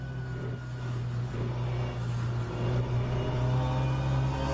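Steady onboard engine drone of a racing car in the Le Mans Virtual sim racing game at Spa, a continuous loud hum with layered harmonics and no talking.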